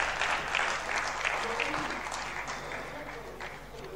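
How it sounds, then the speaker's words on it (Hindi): An audience at a tabla solo concert claps steadily, a dense wash of applause that slowly fades over a few seconds. "तालियों के साथ स्वागत करते हैं"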